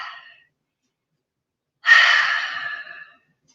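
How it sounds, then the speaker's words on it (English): Single deep breath in a yoga session: a brief faint breathy tail, then after a silent gap one clear, close, airy exhale lasting over a second before fading out. "One more breath, please."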